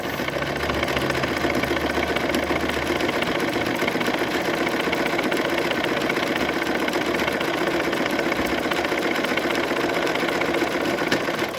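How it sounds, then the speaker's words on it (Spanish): A sewing machine runs steadily while stitching a buttonhole, a continuous mid-level whirring hum with a fine rapid needle rhythm throughout, no talking. "Yo mantengo los dedos acá por si en algún momento veo que la máquina se frena, como para poder ayudarla y que continúe haciendo el bordadito."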